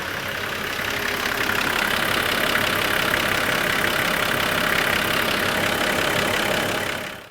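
A Nissan Patrol 4.2 TDi diesel engine idles steadily right after starting, just after a CAV fuel filter was fitted. The idle is a close, loud, even clatter with no talk, and it cuts off at the end.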